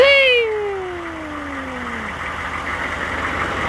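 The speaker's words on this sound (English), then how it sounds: "Crank her up!" A Suburban diesel turning over on a cold start after its glow plugs heat, with a steady broadband engine roar that begins after a short, high, falling whine and continues evenly.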